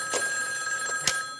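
A 1980s rotary-dial telephone bell rings in short metallic bursts over a steady background hum, with no voices present.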